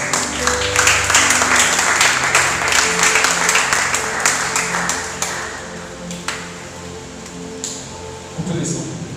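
A church congregation applauds during a weekly worship service, dense clapping that is loud at first and then thins and fades, with a few scattered sharp claps and faint voices underneath.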